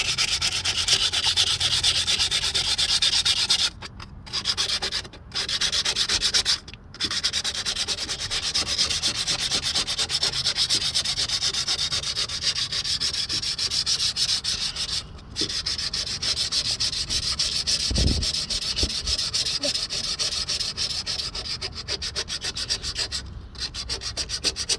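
Steady scrubbing of the sliding door contacts on a Chevy Venture, a continuous close rough rubbing that runs nearly without pause, with only a few brief breaks in the strokes.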